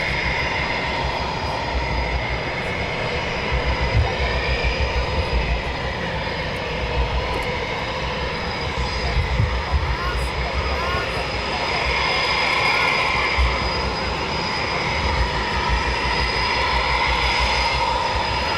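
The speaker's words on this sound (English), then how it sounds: "2 F-15s over the top." Two F-15 fighter jets pass overhead at RAF Coningsby at night, a loud, sustained engine roar that swells and lingers over about eighteen seconds, with people talking faintly beneath it.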